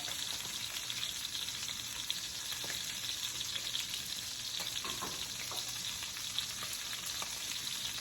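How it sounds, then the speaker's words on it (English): Meat searing in a hot pan at home, a constant crackling sizzle with scattered pops and a few faint clicks, close and steady with no talk. "So you sear it, you sear the other side"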